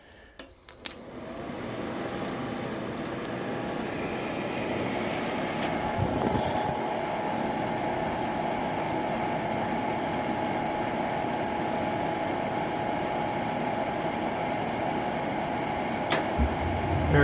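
Atwood RV propane furnace firing up with a couple of sharp clicks, then settling into a steady, loud, continuous blower and burner roar that holds evenly, with a brief clunk partway through and another near the end.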